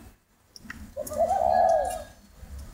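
A spotted dove kept as a cage bird gives a single soft, drawn-out coo lasting about a second. It is fairly clear against quiet background rustle and a few faint clicks.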